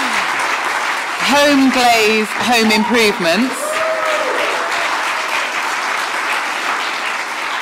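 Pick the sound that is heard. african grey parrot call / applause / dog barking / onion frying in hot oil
applause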